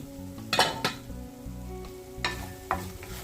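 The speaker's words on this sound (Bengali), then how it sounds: "আর আরো 2 বার আমি নাড়াচাড়া করিয়া দিছি যাতে নিচের দিকে পুরা না ধরে" Onions fry in oil in a pan for a spicy eel fish dish over medium-low heat, with a soft sizzle and a few sharp scrapes and clinks of a spatula stirring against the metal, close by and without speech.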